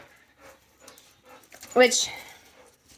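Dogs playing nearby give a brief burst of growly, panting yelps and whines, fairly close, while a person talks over the scene in a farm setting with goats.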